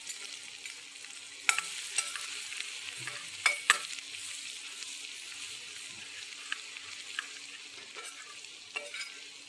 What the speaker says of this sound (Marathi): चांगलं तेलात परतून घेऊया.